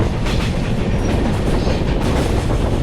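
The Samaleshwari Express runs through the Eastern Ghat section between Rayagada and Koraput, a loud, steady rumble of rolling wagons with a continuous clatter close by and no talking.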